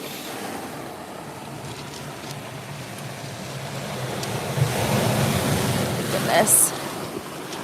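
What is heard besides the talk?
waves breaking on Lake Michigan shore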